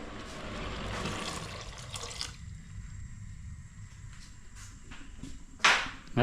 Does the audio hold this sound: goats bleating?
no